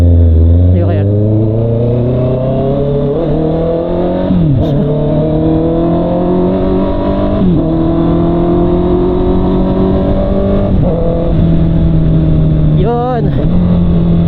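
Motorcycle engine held at high RPM, picked up by a Racing Boy helmet mic, with a loud steady droning tone that rises and falls slightly as the throttle shifts, close and constant throughout.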